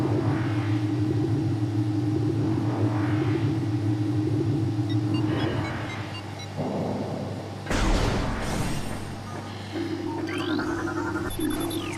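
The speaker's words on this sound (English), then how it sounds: "this lift now takes me up to the Phendrana Drifts" A lift rises in the video game Metroid Prime with a steady, loud mechanical rumble and hum that shifts partway through into a deeper surge with whooshing tones.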